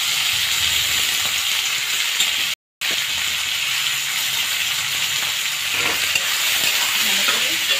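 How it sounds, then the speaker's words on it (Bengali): Poha frying with salt and turmeric while being stirred, a steady sizzling hiss with faint scraping, briefly cut to silence for a moment before resuming, no speech. "ভালো করে ভেজে নেব"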